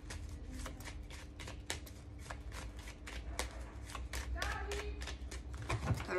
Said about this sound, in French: Alors, on va mélanger